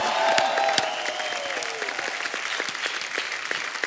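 Enthusiastic studio audience applause on a Hindi comedy talk show, a dense wash of clapping that starts loud and stays steady throughout, with a brief whistle-like tone gliding down early on.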